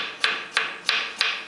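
Knife chopping salad vegetables into pieces for fattoush, four evenly spaced crisp cuts against a board in quick rhythm, close and clear.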